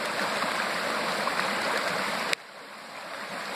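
Creek full of small salmon flowing with a steady, close rushing wash of water, which abruptly drops to a quieter, more distant trickle partway through.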